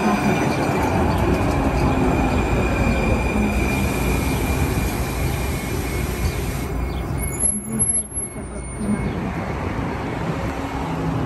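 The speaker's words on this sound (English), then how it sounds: "Train is approaching the station." A Valley Metro light rail train in Phoenix rolls into a station with a steady loud rumble, high wheel squeal and whine rising over it, and a brief hiss near the end.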